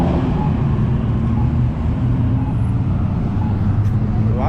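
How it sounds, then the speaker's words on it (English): Steady road traffic roars on a busy morning route, dense low rumble of passing cars and heavier vehicles, loud and continuous with no voices. "A lot of traffic out this morning."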